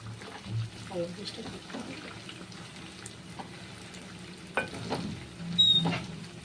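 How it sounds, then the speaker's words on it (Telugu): Chicken pieces frying in a pan at home until browned for Bhimavaram-style chicken pickle; a moderate sizzle with intermittent stirring scrapes, heard under a person talking. "అయితే ఇప్పుడు దోరగా ఎగాలండి. ఇవి మన బ్రౌన్ కలర్ వచ్చేలాగా."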